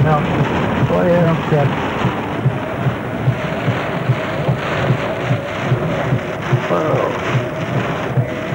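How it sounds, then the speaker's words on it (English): Rain falls steadily on a large barn housing dairy cows in Morris, Minnesota, a dense, even hiss with faint low rumbles and occasional nearby voices underneath. "Man, it's raining."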